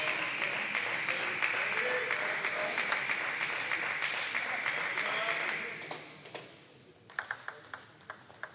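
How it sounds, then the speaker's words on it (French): At a French Pro A table tennis match between Villeneuve and Rouen, the club president claps before a serve amid dense crowd applause, with sharp ball pings and bounces emerging as the noise dies down. "on entend le président du club de Villeneuve, Marc David, qui applaudit là en début de chaque service"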